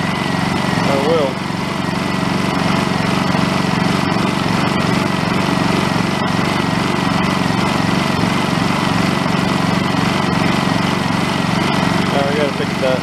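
A Honda EU2200i inverter generator runs steadily and loud close by, its drone holding without a clear stall, while people talk over it.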